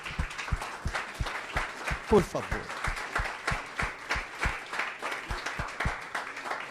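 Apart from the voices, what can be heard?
church congregation applauding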